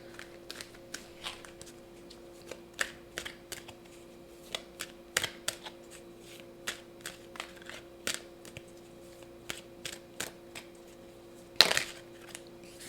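Oracle cards are shuffled quietly in a spiritual love reading, giving soft irregular flicks and taps over a faint steady hum, with one louder riffle near the end.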